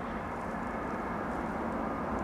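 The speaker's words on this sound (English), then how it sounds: "What is that landing? A regional jet, probably." A regional jet coming in to land, a steady broadband engine roar holding at a constant level throughout, heard from a planespotting spot with no talk over it.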